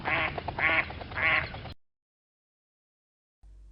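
A mallard duck quacks three times in a quick, even series, loud and close, followed by silence.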